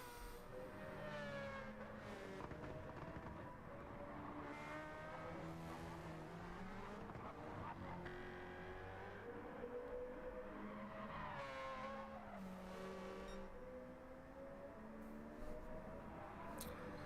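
Race cars roar through the infield corners of a Gran Turismo video game race, their engines revving up and down continuously while tires squeal and skid repeatedly, with no commentary over the sound.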